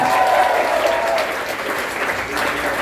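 A comedy-show crowd claps for a performer, a dense burst of applause that starts loud and eases slightly while continuing to the end.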